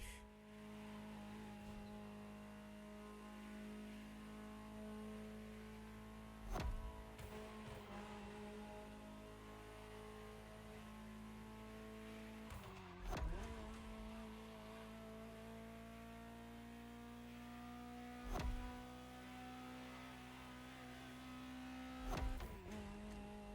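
A steady Ferrari engine drone in the video game The Crew Motorfest, with harmonic tones, rising gradually in pitch, broken by a few sharp thumps or gear shifts; no talking.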